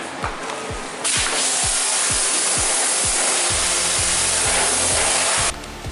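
Pressure-washer water spray rinsing a car's painted bodywork, a loud steady hiss lasting several seconds, preceded and followed by a rhythmic clicking tick, close up.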